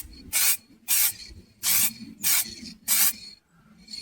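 Five short bursts of spray paint in traffic white hiss onto Lada car bodywork, evenly spaced and close, each about half a second long over a low background hum.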